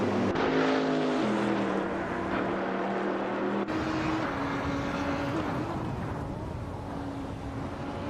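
Engines of a 2021 Ford Mustang and rival Trans Am class cars in a video game race, a loud continuous roar with shifting engine tones and gear changes, the pitch dropping and rebuilding across the field.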